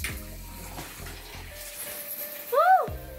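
Water runs from a newly installed shower in a renovated bathroom, a soft spray with a faint tonal whine, then a brief louder rising squeal from the fixture near the end.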